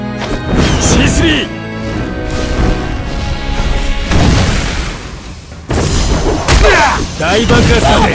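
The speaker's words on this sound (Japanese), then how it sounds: "大爆発だぜ。" A large C3 clay-bomb explosion in the Naruto Online video game, with loud crashing, booming blasts that surge and rumble in waves. Voices shout over the blasts in between.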